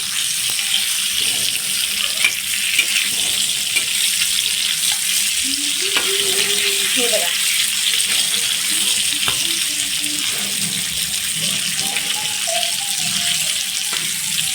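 Fish fries in a pan with a steady, loud sizzle, while faint clinks and scraping of utensils come and go on top of it.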